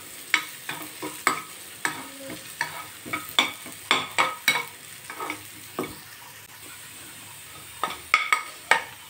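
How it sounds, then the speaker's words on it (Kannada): Potato fry cooking on low heat in a pan, with a soft constant sizzle under repeated sharp clinks and scrapes of a utensil stirring against the metal, coming in irregular bursts at close range. "ಅಲ್ಲಿ ತನಕ ಸಿಮ್ಮಲ್ಲಿಟ್ಟು ನಾವು ಫ್ರೈ ಮಾಡೋಣ."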